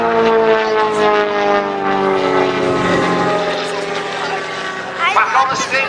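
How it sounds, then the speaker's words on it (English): Propeller-driven scale model aeroplane at the Old Buckenham Airshow climbs and loops, a loud, steady engine drone that shifts in pitch as it climbs and rolls over, heard under a commentator's running talk. "Back on the stick, and of course Mike's stick is on the ground over there on the runway. Climbing away. Over the top"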